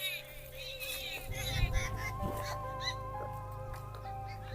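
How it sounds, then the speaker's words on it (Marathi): Birds calling close by from outside a room with a small window, with short honking and chirping calls scattered through the stretch, fairly faint over a low hum. "थोडासा पाखरांचा आवाज येत होता त्याच्यामुळे पाखरं हाणून लावली."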